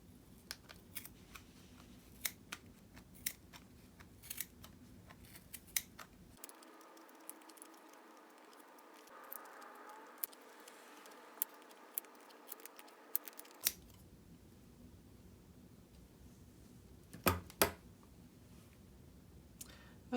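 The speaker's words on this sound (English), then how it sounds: "you find it with your scissors and then start trimming" Scissors snipping yarn to trim a pom-pom for a wreath, a steady run of close, quiet cutting clicks with brief pauses and no talk.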